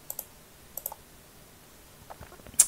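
A computer mouse gives a few light, close clicks in pairs at irregular intervals during a software tutorial, over a faint background hiss.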